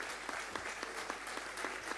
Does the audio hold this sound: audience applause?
yes